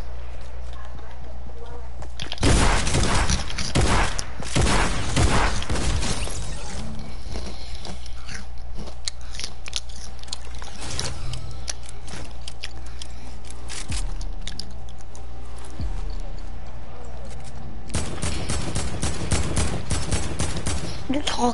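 Rapid video game gunfire during an arena solos match, with clustered bursts of shots near the start and again near the end, over steady game noise and a talking voice.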